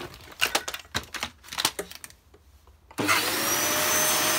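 A Dyson DC05 vacuum cleaner switches on after a few seconds of clicks and handling noises, then runs with a loud, steady roaring whine close by.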